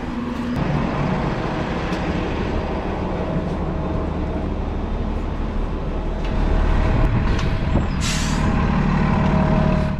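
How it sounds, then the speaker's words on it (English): A bus pulls up outside an airport near Vail, its engine rumbling steadily before a sharp hiss of air brakes sounds near the end. "All right, the bus arrived."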